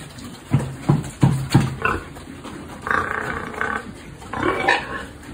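Pigs kept on a farm grunt in short, rough bursts, several quick grunts followed by longer snorting calls, fairly close and with pauses between.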